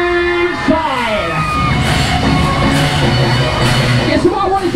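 Riders scream and whoop from a spinning Tagada ride at Hull Fair, a dense roar of crowd yells held steadily over loud fairground music, with a DJ-style voice calling out across the noise.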